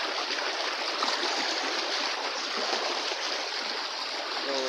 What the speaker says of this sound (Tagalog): Mga irigasyon tubig.